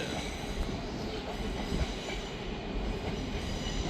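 Class 385 trains pull into Edinburgh Waverley station with a steady rumbling roll of wheels on rails, faint squeals and clatter under the echoing hall, loud and continuous.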